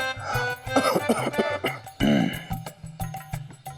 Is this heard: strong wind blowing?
no